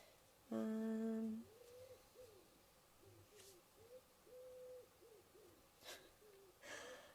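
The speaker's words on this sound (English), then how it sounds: "I can hear the wood pigeons" Soft, distant cooing from wood pigeons in a repeated phrase, with a brief louder burst near the start over quiet outdoor ambience.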